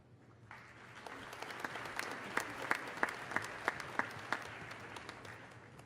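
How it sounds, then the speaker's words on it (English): Audience applause at a university commencement ceremony for graduates, a broad steady wash of clapping that swells and holds, with a few sharper individual claps standing out near the middle. "another round of applause for these very impressive graduates"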